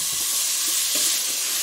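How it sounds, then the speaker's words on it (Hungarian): Butter hitting a hot pan of white and red onions for onion soup gives a steady, loud, broadband sizzle that fills the whole moment, with faint stirring scrapes underneath. "És akkor most hozzáadom a vajat."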